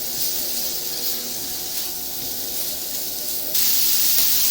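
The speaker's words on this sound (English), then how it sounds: "So that's frying up nicely." Bacon frying in a pan on the hottest stovetop setting, a steady close sizzle and hiss that holds throughout and grows slightly louder and brighter toward the end, with no talk.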